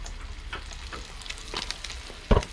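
Shishamo fish fry in a pan with a low, steady sizzle and scattered soft pops, ending in a single brief, louder clatter near the end.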